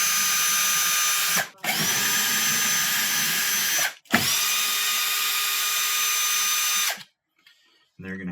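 A power driver spins out Torx screws from a dishwasher door in three long, loud whirring bursts of a few seconds each, separated by brief pauses, close up, with a quiet murmur at the end.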